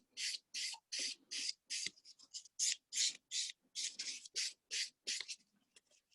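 Fingernail free edge being filed smooth, quick regular rasping strokes, close and faint, repeated a dozen or more times in a steady rhythm.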